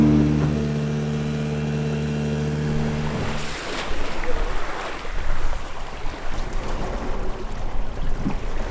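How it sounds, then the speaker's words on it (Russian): A sailing yacht motoring toward a buoy: a steady low engine hum gives way after about three seconds to rushing water and wind noise against the hull, with faint voices in the background. "Идем до 14-го буя под мотором."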